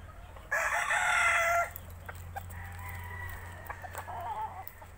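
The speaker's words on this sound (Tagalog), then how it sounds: "Ang mga manok namin dito, pang derby, pang championship." A derby-bred gamefowl rooster on a farm lets out one loud, close crow, followed by quieter clucks and scattered fowl calls in the background.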